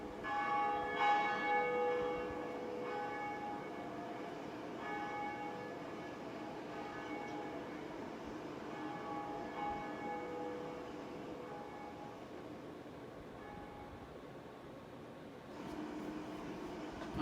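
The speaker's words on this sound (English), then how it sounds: "So there's the bell of awakening. And we are going to pull this lever and ring it." A deep church-style bell tolls from the Bell of Awakening in Dark Souls Remastered, one loud strike ringing out with a long shimmering decay over quiet ambience, with a fresh swell near the end.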